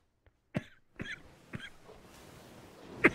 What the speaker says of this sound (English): I'm sorry about the coughing.